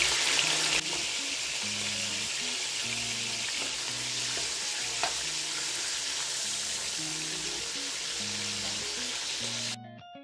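Meat frying in hot oil in a kazan for Kazakh plov sizzles steadily and loudly, a continuous crackling hiss with a faint musical backing underneath.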